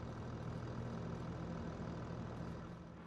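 A Kubota mid-size tractor with a front loader attachment idles in the Farming Simulator 25 game, a steady low engine rumble that holds even and continuous before easing slightly at the end, with no voices.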